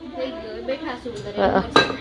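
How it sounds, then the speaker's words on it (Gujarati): Pots and steel utensils clink and scrape while dishes are washed by hand in a home kitchen, several irregular knocks rising near the end, with someone talking over them. "વાસણ ઘસવા બેઠી છે તું બિચારી વાસણ ઘસી દેરી આજે"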